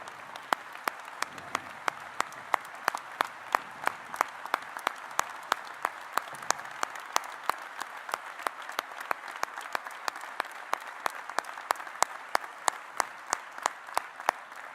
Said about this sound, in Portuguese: O Congresso recebeu-me de pé, peço que também receba de pé e aplauda a Presidente da UGT.